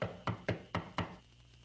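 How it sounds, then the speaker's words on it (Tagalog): Knuckles rap on a door in five firm, evenly spaced knocks, loud and close, then stop and leave a short quiet tail. "pukpok sa pinto"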